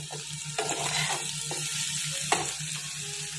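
Okra sizzles steadily as it fries in a pan, with periodic scraping stirs and light clinks of a utensil against the pan at close range, while a low hum runs underneath.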